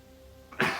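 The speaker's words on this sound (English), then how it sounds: "Apologies for the coughing." A short cough bursts out after a moment of near silence, one rough, loud expulsion with a trailing tail, heard up close.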